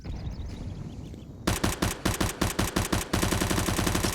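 A UMP submachine gun fires in Counter-Strike on the Ancient map during a pro esports match. After a short lull come loud, close, rapid tapped bursts of shots in quick succession.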